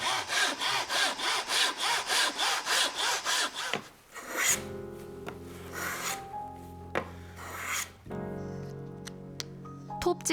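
Steady back-and-forth strokes of a hand saw rasping through wood, then the sawing stops and tonal music with scattered knocks follows.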